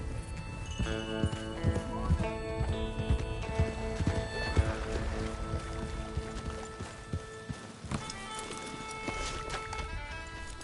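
A horse in Red Dead Redemption 2 moves at a brisk gait, its hooves clip-clopping in a quick, steady rhythm close by, with tack rattling and a musical score running underneath throughout.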